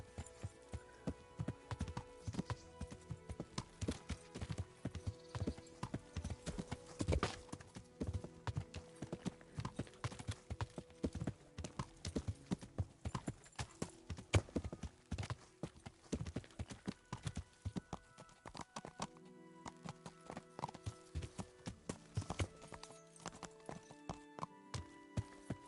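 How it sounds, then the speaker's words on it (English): Steady rhythmic clip-clop of horse hooves while riding through the countryside in Kingdom Come: Deliverance, a continuous trotting beat heard close throughout with almost no talk. "We enjoy our horse rides in the countryside."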